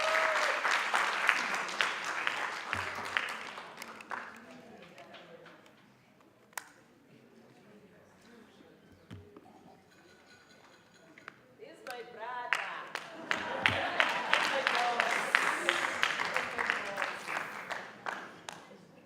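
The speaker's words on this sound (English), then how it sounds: "if we could give a round of applause to Mr." An audience applauds at a college policy conference, with two loud bursts of clapping separated by a quieter lull that is broken by a few scattered claps.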